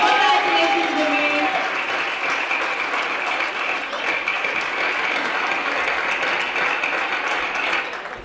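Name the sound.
audience applause at award ceremony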